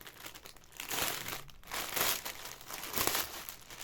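Plastic packaging around a set of hair clips is crinkled and torn open in a few quiet bursts of close rustling, with no talking.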